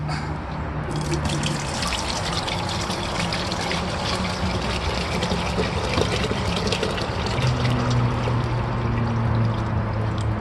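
Water pours loudly and steadily into a home water distiller, a close, continuous rushing gush lasting about ten seconds with faint hum underneath and no talk.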